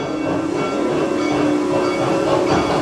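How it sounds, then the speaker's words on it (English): A roller coaster train runs at Busch Gardens, heard as a steady, continuous rumble with faint rail clatter from some distance, unbroken for a few seconds with no voices over it. "now I hear the train going."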